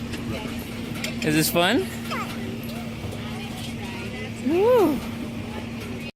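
A big tractor pulling a hayride at a pumpkin farm runs with a steady low engine drone throughout, under excited voices of an adult and a child.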